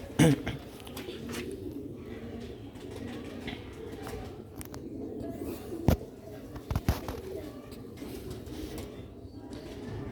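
Breeder pigeons coo softly nearby in low, repeated throaty calls, with a few sharp knocks and faint background noise.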